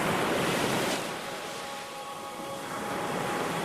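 Ocean waves breaking on a shore, a steady rushing surf that swells, eases briefly, then builds again, close and fairly loud, with wind noise and no talk.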